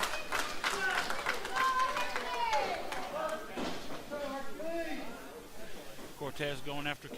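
A wrestling crowd claps and cheers for Hercules Cortez, scattered applause and shouts running under steady ringside commentary by a close, loud voice.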